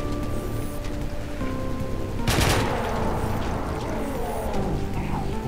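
Gunfire in the classic shooter Doom, played through the Sigil episode, a sharp loud burst of shots in the middle standing out against a continuous game ambience hum.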